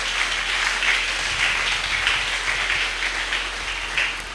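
A church congregation at a Sunday service breaks into steady, sustained applause, a dense wash of many hands clapping together at an even loudness throughout, with no voices standing out.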